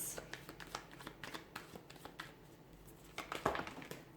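Tarot cards shuffled in a steady flurry of quick papery riffles and slaps, close and fairly quiet, with a few louder flicks as cards spill out of the deck.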